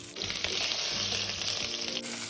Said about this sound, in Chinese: 倒入预先备好的马铃薯，翻拌，再慢火油煎至表面微焦